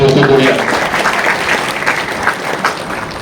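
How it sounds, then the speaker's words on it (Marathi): An audience at a National Science Day event at an ITI in Aundh, Pune breaks into loud, dense applause that tails off gradually, with a brief voice audible at the start. "खरोखर त्यांचं परत एकदा जोरदार टाळ्या वाजवून आपण कौतुक करूया"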